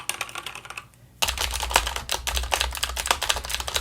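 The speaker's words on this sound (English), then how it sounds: "this is the MX Brown. See here, it's a little more muted" Muted typing on a mechanical keyboard with Cherry MX Brown switches, a steady stream of soft, quick keystrokes after a brief quiet pause near the start.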